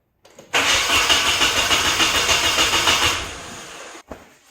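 A Nissan 240SX engine cranks over rapidly for about three seconds during a fuel injector test, a loud, even rhythmic churn that cuts off, followed by a brief knock.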